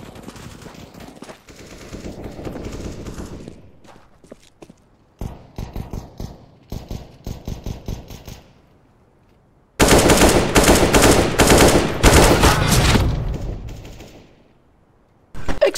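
Bursts of automatic rifle fire in Counter-Strike: Global Offensive, loud and close, in several clusters of rapid shots with short pauses, ending in a long heavy barrage.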